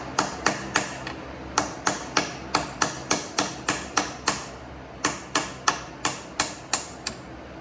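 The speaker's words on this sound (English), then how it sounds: "Get a little punch, knock this pin through." A small punch is hammered to drive a pin out of a BMW E36 gear shifter during a rebuild, giving a steady run of sharp metallic taps that pause briefly and then resume, close and clear with no talk.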